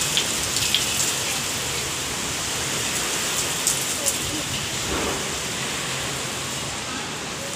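Heavy rain pours down on a rooftop terrace during a storm, a loud continuous hiss with occasional sharper drops close by.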